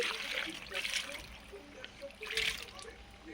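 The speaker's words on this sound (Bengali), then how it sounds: "অল্প করে জল দিয়ে দিচ্ছি" Water is poured a little at a time onto salted raw mango pieces being prepared for village-style amchur, giving a soft trickling splash in short bursts under quiet talk.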